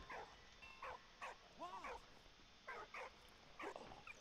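A dog barks in repeated short bursts with a brief whimpering yelp in between, fairly faint, over a low background hum, in the video game Valiant Hearts: The Great War.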